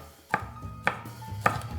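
A hot chili pepper being chopped on a cutting board for pasta puttanesca with vermicelli: three sharp, evenly spaced knife chops, close and clear, with quiet kitchen room tone between them and no talking.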